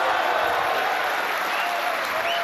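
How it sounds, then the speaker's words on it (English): A snooker crowd at the Turkish Masters bursts into dense, sustained applause and cheering for a 147 maximum break, a loud continuous roar of clapping filling the hall. "Look at the crowd, they're going wild."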